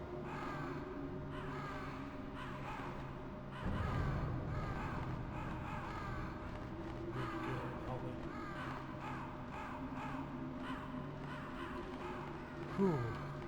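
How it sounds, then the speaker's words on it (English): Crows cawing in the Metal Gear Solid video game, repeated harsh calls scattered through the clip over steady game ambience, with voices talking in the background. "More crows."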